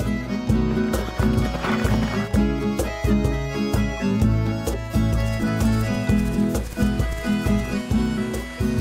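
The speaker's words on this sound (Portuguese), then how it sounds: "Olímpio também cria cavalos pantaneiros há mais de 2 anos" Pantaneiro horses move about on a ranch, with rhythmic clip-clopping hooves and an occasional whinny heard fairly close over a continuous tonal background.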